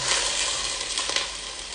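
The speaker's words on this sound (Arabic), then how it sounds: "نخليها تقلى مليح مليح هكذا" Pieces of duck neck fry in a pot with a steady, close, broadband sizzle and crackle, continuous and fairly loud throughout with a few sharper pops and no voices.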